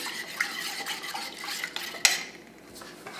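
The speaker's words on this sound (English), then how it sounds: "So I mix this with the water" Rye sourdough starter stirred together with filtered water in a bowl gives a steady run of scraping and clinking from the utensil, with one sharper knock near the end and no talking.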